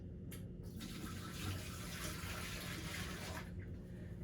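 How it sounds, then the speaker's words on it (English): Water poured out of a plastic basin into a sink during a peri care skill demonstration, a steady broadband splash and gush lasting several seconds at close range with no voices. "I'm going to empty the basin."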